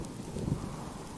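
Steady rain falls in the survival crafting game Subsistence, a soft, even wash of noise with a low rumbling undertone that holds at a moderate, fairly quiet level throughout.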